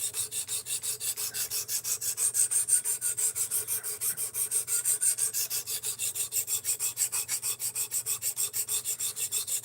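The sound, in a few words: knife sharpening on Work Sharp Precision Adjust Professional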